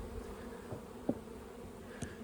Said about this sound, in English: the bees are actually in the lilacs this year